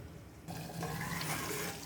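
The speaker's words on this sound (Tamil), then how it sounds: "கலக்கி விட்டுட்டு தேவையான அளவு தண்ணி ஊற்றிக்கலாம்." Water poured into a pan of fenugreek greens kuzhambu, starting abruptly as a soft, steady splashing trickle that is fairly faint and close.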